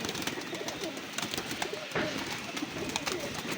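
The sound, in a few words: pigeons cooing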